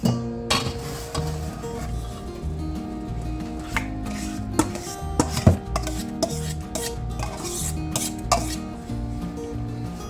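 Mashed banana, cinnamon and milk are mixed into a creamed banana bread batter in a bowl, with repeated clinks and scrapes of a utensil against the bowl over a low background hum, close and moderately quiet.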